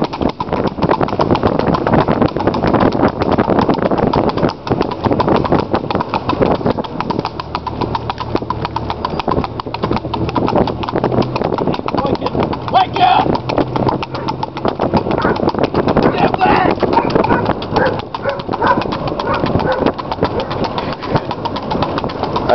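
Steady, rapid hoofbeats of a buckskin racking horse clip-clopping throughout, with a low engine hum and occasional voices in the background.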